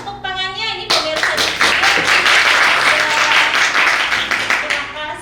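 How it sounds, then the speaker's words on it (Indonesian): Studio audience clapping on an Indonesian television health show, a burst of applause following a host's voice, loud and continuous for several seconds before tapering slightly at the end. "Tepuk tangannya ini pemirsa"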